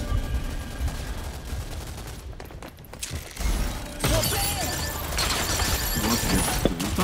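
Shotgun gunfire in the video game Rogue Company, sharp cracking blasts with shattering debris, loud bursts around 2 to 3 seconds and from 4 seconds onward among mixed game noise.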